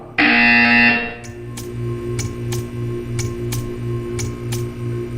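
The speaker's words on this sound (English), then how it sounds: "You will hear a buzzer." A loud, harsh buzzer in the video game Portal 2 blares for about a second, then a steady ticking pulse repeats under a low hum.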